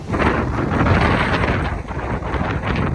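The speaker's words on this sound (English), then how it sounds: "it's too windy" Strong wind on a sandy beach roars steadily into the microphone, a loud continuous buffeting rumble with gusty surges throughout and no voices.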